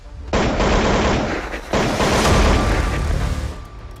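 Rapid gunfire during a night police encounter in Sushant Lok, a loud, sustained burst of shots that breaks briefly and then resumes in dense rattling volleys.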